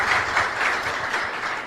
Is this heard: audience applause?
yes